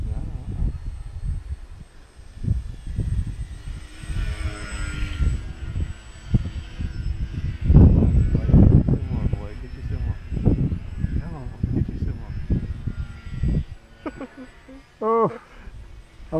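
A radio-controlled model airplane at full throttle during combat flying, its motor buzzing and droning as it passes, rising louder midway and trailing off, with people talking outdoors over wind noise.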